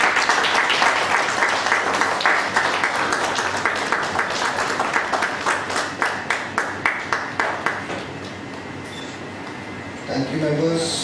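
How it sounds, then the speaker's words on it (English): An audience at a study circle meeting breaks into sustained applause, dense clapping that thins into a few scattered claps before a voice begins speaking. "Members, let's have a round of applause to the speaker."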